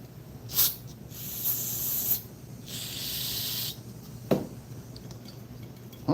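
Aerosol brake cleaner sprays onto the engine of a Scag walk-behind mower in several hissing bursts of varying length, with a sharp short blast near the end.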